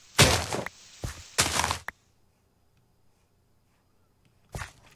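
A wooden minecart breaks apart in Minecraft: two sharp, loud clattering crunches in quick succession, then near silence before a brief third burst at the end.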